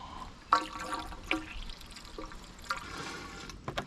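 Water trickles and gurgles while filling the cooling system of a 1992 Detroit 8v92 fire truck engine, with faint steady pouring, occasional drips and small knocks, quiet and close, with no talking.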